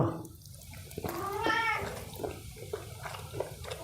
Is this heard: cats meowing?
yes